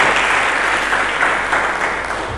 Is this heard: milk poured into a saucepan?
no